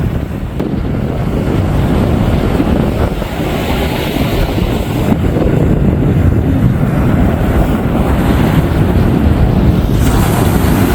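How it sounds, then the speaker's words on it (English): Ocean waves break on a Florida beach in a continuous rushing wash, heavily mixed with gusting wind buffeting the microphone. "Never get tired of the sound and the beauty of those waves."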